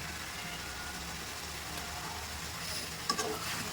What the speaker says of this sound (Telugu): ముక్క అనేది గోల్డెన్ బ్రౌన్ కలర్లో వచ్చేంత వరకు ఫ్రై చేద్దాం.